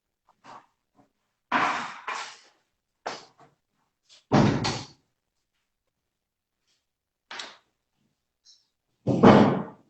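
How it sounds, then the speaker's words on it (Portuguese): A door being closed indoors, with several loud thuds and knocks at uneven intervals, close by, separated by silence and with no talking. "Vou fechar uma porta, só um minutinho"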